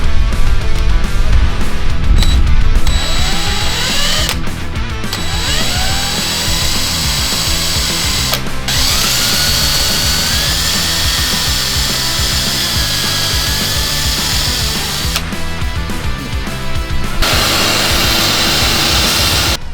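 A power drill bores holes in a turbo manifold for a Honda Civic. A loud, continuous grinding whir holds throughout, with shifting pitch and brief bursts of harsher noise.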